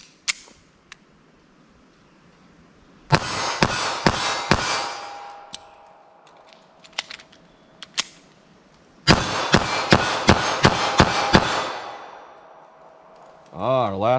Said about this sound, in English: We'll see how fast I can put 12 on target with our 380.